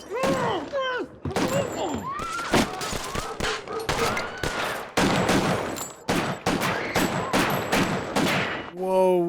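Gunfire in a TV crime drama scene: a rapid string of loud, sharp shots rings out close by in irregular bursts, some with echoing tails, with a few brief vocal sounds mixed between them.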